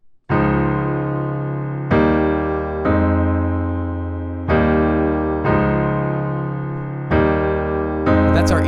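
Solo piano plays a main chord progression, with sustained full chords struck one after another at a slow, even pace, loud and close, the last chord fading into a brief flurry.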